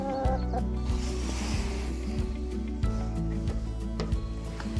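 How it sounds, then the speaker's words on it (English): Several chickens cluck in a backyard chicken coop on a freezing winter day, their repeated low clucks and short calls overlapping steadily at close range with no talk. "This is my main chicken coop where I keep all my chickens"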